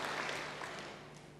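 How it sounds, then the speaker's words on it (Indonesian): A church congregation claps together after a sermon passage, a dense broadband patter of hands that stays steady and fairly loud, tapering slightly over a second and a half. "Beri tepuk tangan bagi dia."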